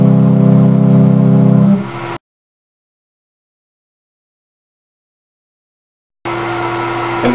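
Low sustained tones from a homemade pipe organ built from galvanized downspout pipes, playing its lowest keyboard notes: a loud, steady droning chord that cuts off after two seconds, followed by silence and then another held low note.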